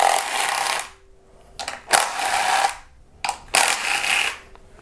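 A 10mm tool backs out ignition coil bolts on a Kia Optima engine, heard as three close bursts of quick ratcheting clicks with short quiet gaps and small metallic knocks.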